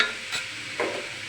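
Cauliflower frying in a pan gives a steady sizzling hiss, with two brief stirring scrapes standing out over the short stretch.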